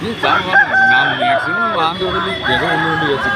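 A rooster crows loudly nearby at a rooster market, its long wavering call repeated amid clucking hens and a murmur of people in the background.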